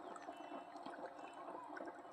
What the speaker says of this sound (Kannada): ಏನು ಚೆನ್ನಾಗಿ ಬರ್ತೈತೆ ನೀರು,